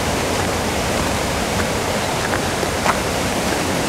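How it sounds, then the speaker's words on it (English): The fast-flowing Knik River in Alaska rushes with a loud, steady broadband roar, unbroken and close by, with no voices over it. "This river is hauling butt."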